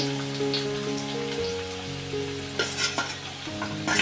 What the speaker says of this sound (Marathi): आता मी त्यात त्याच पॅनमध्ये तेल टाकलेलं आहे आणि आता मी कांदा टाकते बघा कांदा टाकते मिरची टाकते